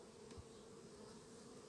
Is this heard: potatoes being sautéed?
no